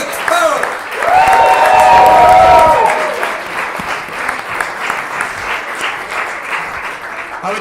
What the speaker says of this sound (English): Will you please carry on that round of applause for Jake Farrell?